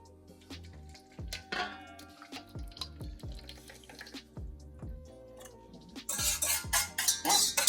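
Liquid poured into a bowl of homemade bread dough mixture in a home kitchen, splashing and trickling for several seconds with soft clinks of the bowl, growing louder and fuller near the end.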